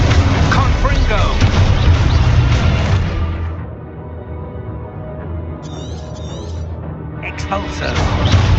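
Confringo fire spell from the Hogwarts Legacy video game, a blasting boom within dense game combat audio. Loud rumbling impacts and a layered effects wash fill the clip continuously, easing midway before swelling again.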